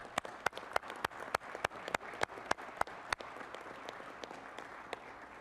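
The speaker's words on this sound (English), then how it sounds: "give Enrica a round of applause" Sparse, scattered claps at a city council meeting: a small group gives a thin round of applause with distinct individual hand claps at an irregular pace, fading toward the end.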